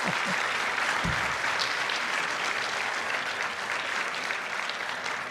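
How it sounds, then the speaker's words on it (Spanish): A church congregation applauds a long-married couple during a pastor's sermon, a sustained wash of clapping from a large crowd, fairly distant and steady, with a brief low thump near the start. "Un aplauso por el amor de Dios."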